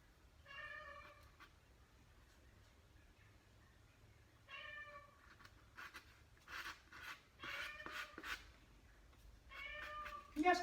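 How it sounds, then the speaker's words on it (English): A pet cat meows repeatedly in the background of an indoor art session: soft, fairly distant meows in short bursts with pauses between them, over a faint room hum. "You hear my kitty in the background."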